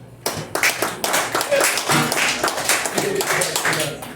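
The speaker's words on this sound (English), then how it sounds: "I want you all to give Kathy with a K a big round of applause" Comedy club audience applauding a woman at the start of a stand-up set, dense clapping from many hands that starts abruptly and continues loud and close, with voices calling out underneath.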